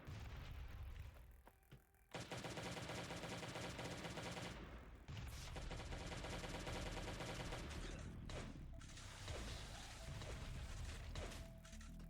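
Gunfire in the survival video game Last Day on Earth: Survival, with loud, sustained, rapid shooting and crashing impacts, broken by a few short gaps.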